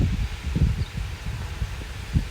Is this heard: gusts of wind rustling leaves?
yes